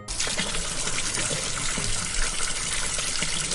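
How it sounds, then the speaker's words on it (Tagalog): Shower switched on in an animated scene, a loud, steady rush of water spraying down without pause. "binibigla ko na lang yung pagbukas ng shower"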